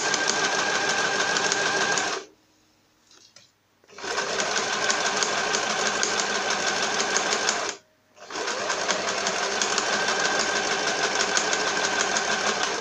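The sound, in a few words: sewing machine stitching a pouch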